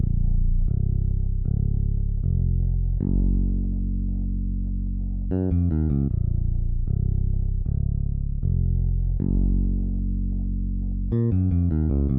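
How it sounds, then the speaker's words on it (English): A deep electric finger bass preset plays a slow, rounded line of sustained notes, with brief quicker melodic runs rising above it now and then. "Then you have a bass, so it's a real bass."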